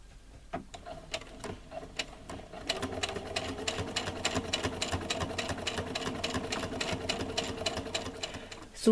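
A sewing machine runs a seam on a fabric e-book reader and tablet pouch about half a centimetre from the edge. Brief bursts of stitching come first, then a steady, close, continuous rapid whir with a faint ticking rhythm. No voices are heard.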